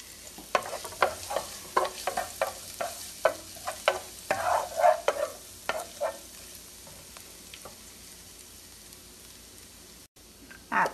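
Ginger and garlic paste frying in hot oil in a wok, with a series of sharp spatula scrapes and stirring clatters over a low, steady sizzle, fairly close and moderately loud.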